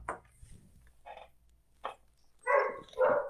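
A puppy wakes up and makes a few soft whimpers and yips, then two louder barks near the end, heard close in a quiet room.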